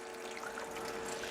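Water being poured off Tabasco pepper pulp and seeds, a soft continuous trickling splash, faint and short, with no talking.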